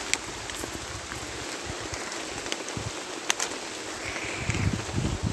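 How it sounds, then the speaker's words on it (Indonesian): Heavy rain falls in a forest, hissing steadily on leaves, with scattered louder drops and patters close by. "termasuk hujan terlebat di hutan selama saya mencari."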